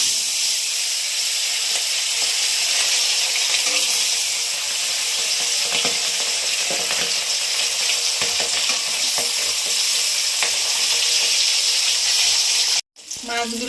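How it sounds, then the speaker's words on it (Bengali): Tilapia fish pieces fry in hot oil in a kadai, a dense continuous sizzle and crackle holding strong for over twelve seconds before a brief cut at the end. "তেল গরম হয়ে গেছে, মাছ দিয়ে দিচ্ছি।"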